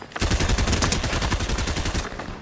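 Rapid automatic gunfire from a battle royale shooter match played with only common weapons, a dense sustained burst lasting about two seconds, loud and close with no talk.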